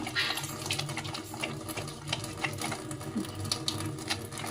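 Water trickles and splashes onto a foamy shikakai shampoo lather, close by and steady with soft bubbling patter, and no one speaks.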